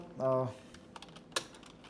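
A brief voice sounds, then a computer keyboard clicks in a few sparse, light taps while text is typed into a PowerPoint slide.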